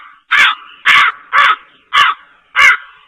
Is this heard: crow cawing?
yes